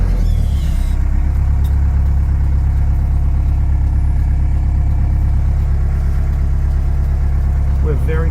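A 1989 Land Rover Defender Perentie 110 4x4 engine pulls steadily in first gear, a loud, constant low drone filling the cabin from start to finish.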